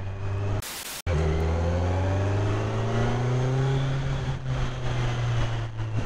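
A 2020 Kawasaki Z900 four-cylinder motorcycle, restricted to 35 kW and still being run in, pulls hard on a test ride. Its engine drones loudly and climbs steadily in pitch through the gears after a brief burst of wind noise.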